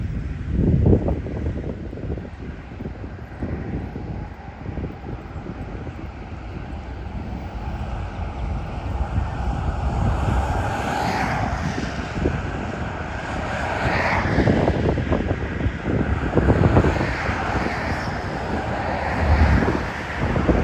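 Strong wind roars steadily against the microphone for the whole stretch, a broad rumbling buffet that swells and gusts in loud waves, with no talking.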